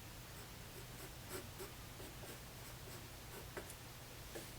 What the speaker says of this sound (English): So I'm going to draw a picture.